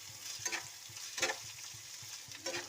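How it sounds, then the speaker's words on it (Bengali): Garlic, onion and green chili sizzle in a tempering on a tawa before khudra greens are added. A soft, steady crackle is broken by three clear stirring scrapes. "খুদরা শাক ভাজি রসুন পেঁয়াজ কাঁচামরিচ দিয়া বাগার দিলাম"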